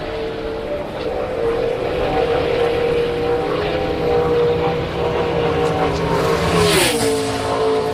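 A NASCAR Cup Series car on track during qualifying at Daytona, a sustained engine drone heard from a distance with a Doppler pitch drop near the end as it passes.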